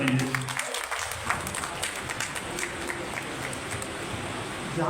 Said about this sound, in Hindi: एक बार तालियां बजा दीजिए